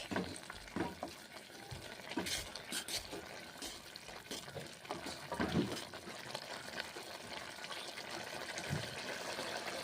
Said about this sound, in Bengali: এইভাবে রান্না করে নিচ্ছি বড়ি পোস্ত পাঁচ মিনিট ফুটিয়ে নেবো নেড়ে চেড়ে